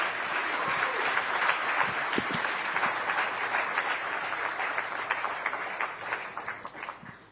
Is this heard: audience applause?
yes